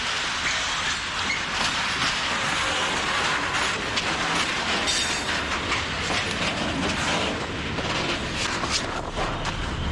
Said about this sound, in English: Just as we was about to walk away, this train kind of pulled up.